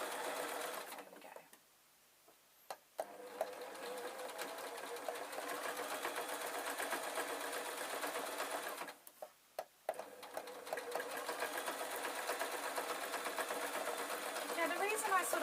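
A sewing machine stitches a tweedle muffler in a rapid, even mechanical whir, pausing twice for brief gaps before running on again, with a voice talking intermittently over it.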